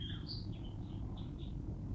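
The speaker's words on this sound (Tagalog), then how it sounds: "Maririnig mo yung mga huni ng mga ibon" Several short, thin bird chirps scattered across a quiet urban forest park in Manila, the bird calls sitting faintly above a steady low rumble of distant city noise.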